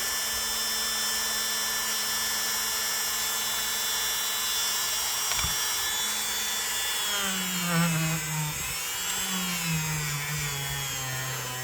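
A rotary tool fitted with a Scotch-Brite-type abrasive attachment cleans a vintage Kutmaster electrician's knife. It gives a steady, close, high-pitched whine throughout, and the pitch sags and wavers near the end as it meets the blade. No one talks.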